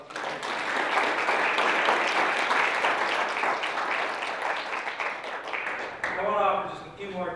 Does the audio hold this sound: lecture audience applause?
yes